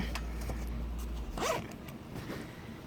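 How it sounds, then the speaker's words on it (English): A zipper is pulled on a zip-up cover over a baby's table-mounted seat: one quick close zip sound after a low hum, then faint handling noises. "then it has a cover that zips right over the top of it"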